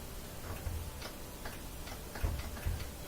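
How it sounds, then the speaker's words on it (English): A part on a Kenmore top-loader washer giving a few soft, close clicks spread unevenly over a couple of seconds against faint room noise. "You hear it click."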